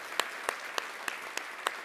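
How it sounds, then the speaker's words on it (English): At a tech company summit, distinct, evenly spaced claps sound about three times a second over a faint background wash, six sharp claps in a slow, steady rhythm. "So let me give Matt an absolute round of applause."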